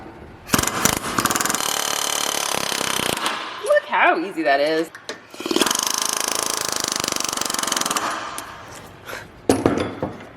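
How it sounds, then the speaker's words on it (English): Pneumatic air hammer pounding a front wheel bearing nut on a 2005-2015 second-generation Toyota Tacoma Prerunner 2WD, loud rapid hammering in long bursts with a brief pause, a voice speaking between bursts. "I'm just gonna air hammer in these holes to move this nut the way that I want it to go."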